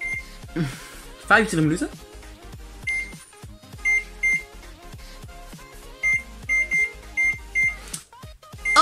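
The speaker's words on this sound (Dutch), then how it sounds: "Zetten we de timer op." An oven timer being set to 25 minutes gives a series of short electronic beeps, some single and some in quick runs, close by, with someone speaking briefly between them.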